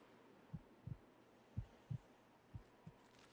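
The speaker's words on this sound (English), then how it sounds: "That's my heartbeat." Heartbeat from the video game Blood Will Tell: a soft, steady lub-dub pulse of paired low thumps repeating about every second over a faint hum, with no talk.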